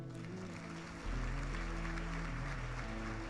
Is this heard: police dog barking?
no